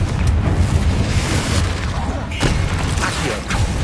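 A Confringo fire spell blast in Hogwarts Legacy, heard as a loud, dense roar of booming, crackling impacts sustained throughout, with a spoken spell incantation.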